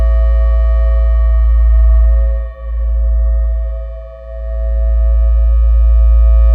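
A steady synthesizer tone from a Joranalogue Collide 4 with rich harmonics rings on, washed in long shimmering reverb, dipping briefly twice before swelling back.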